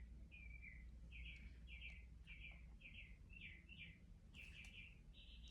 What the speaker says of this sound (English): I love when I hear the birds.